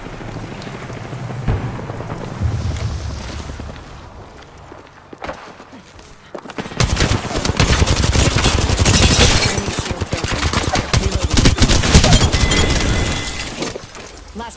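Gunfire fills a battle royale video game match, with bursts of rapid shots, cracks and shattering impacts that grow dense and loud in the second half over a busy game soundtrack.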